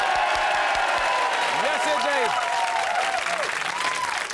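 Studio audience applause at a comedy variety show, steady dense clapping throughout with a voice speaking over it.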